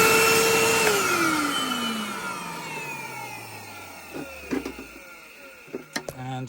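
A refurbished 1980s Hitachi 790 bagless cylinder vacuum cleaner winds down from a steady loud whine to a low fading hum, followed by a few clicks and knocks of handling.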